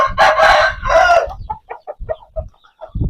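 A red Aseel rooster of the Rattu strain crows loudly and close by, one harsh drawn-out call followed by shorter broken clucking notes and a brief quiet gap.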